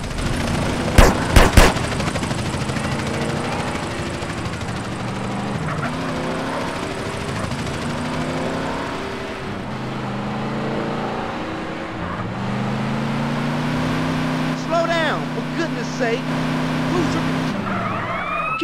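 A Suzuki Swift mod car in GTA San Andreas driving hard during a drive-by, engine droning and rising in pitch under sirens, with a few sharp gunshots early on.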